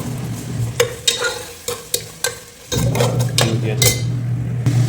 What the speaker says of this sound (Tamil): இப்போ நான் மஸ்டர்ட் ஆயில் ஊற்றிக்கிறேன். கீயும் ஊற்றுவேன்.